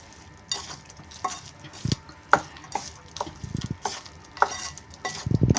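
A spoon stirs corn chaat with coriander and sweet-and-sour chavanu in a bowl, giving irregular scraping taps and soft clinks against the dish, close up with no talking.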